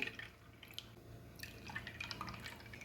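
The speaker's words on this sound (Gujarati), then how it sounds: "હવે આપણે ગ્લાસની અંદર ઠંડુ પાણી ઉમેરીશું।" Cold water trickles into a glass with ice cubes and lemon mint sherbet, a faint run of soft drips and light splashes heard close and quiet.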